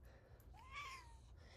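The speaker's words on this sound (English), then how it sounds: "hello, kitty, you want to say hi?" A pet cat gives a single soft, rising-then-falling meow in a quiet room, faint and fairly close over a low background hum.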